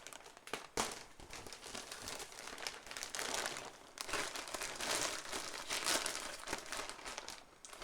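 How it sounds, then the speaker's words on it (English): Crinkly plastic bag of yarn packaging being handled and opened, close and irregular rustling with sharp crackles and bursts that keep going without pause. "I know this bag is very noisy"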